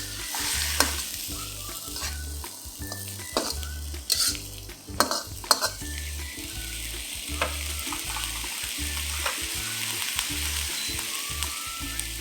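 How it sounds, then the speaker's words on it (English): Lotus root with mixed vegetables stir-frying and simmering in a pan: a continuous close sizzle with scraping, clinking utensil strokes against the pan at irregular intervals, no talk. "Let this simmer for about a minute till it's fairly dry and the vegetables are a little softened."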